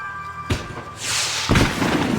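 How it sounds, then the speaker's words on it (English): Fireworks go off during a display in the video game Max Payne 3: two loud, close booms about a second apart, with a bright crackling hiss between them and after them. "The fireworks display was clearly in my honor"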